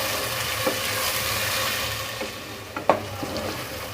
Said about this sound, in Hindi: मसाले को मैंने अच्छे से भून लिया